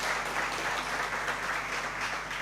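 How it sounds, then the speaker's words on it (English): Audience hand clapping at a law society pro bono summit in Uganda, a steady dense patter of many hands held at an even level for a couple of seconds. "I think we need to have a bigger hand clap for that,"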